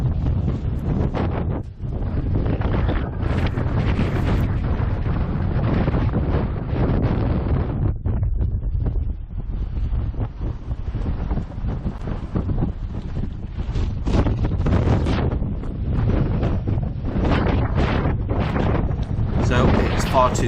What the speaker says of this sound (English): it is absolutely blowing a gale up here